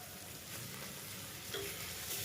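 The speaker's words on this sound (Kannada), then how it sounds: "ಎಲ್ಲ ಚೆನ್ನಾಗಿ ಫ್ರೈ ಮಾಡ್ಕೋಬೇಕು." Chopped mint and coriander leaves frying in a pan for veg biryani, a soft, continuous sizzle with light stirring, fairly quiet and close, with no talk.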